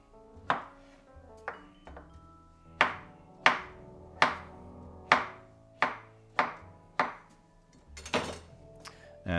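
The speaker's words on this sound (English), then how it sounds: "So I'm just gonna chop that up." A knife chops through avocado on a cutting board in about a dozen sharp, distinct strikes at an uneven, steady pace, close and clear, with no talking.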